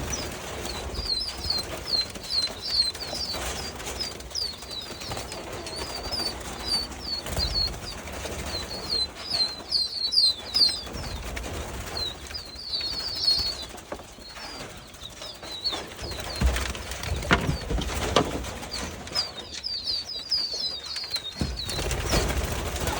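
Two-month-old pheasant chicks calling in a pen, with repeated thin high chirps in bursts over a steady low rumble and occasional fluttering or handling noise, no talk.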